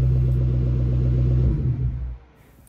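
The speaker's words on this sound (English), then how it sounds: "at idle, the four valves have a really nice burble" A 1999-2004 Ford Mustang four-valve engine idles with a steady, deep burble, holding low and even for about two seconds, then dropping away to near quiet.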